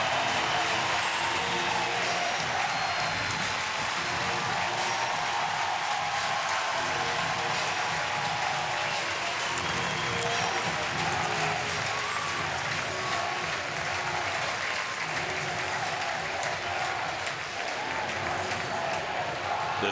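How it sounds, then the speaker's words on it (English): Stadium crowd cheering David Wright at his final game, a steady roar of applause and cheers filling the ballpark, loud and continuous throughout with faint voices mixed in. "This crowd has cheered every moment from the time that David first came out for batting practice today"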